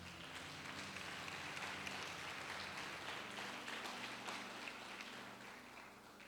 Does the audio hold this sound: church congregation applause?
yes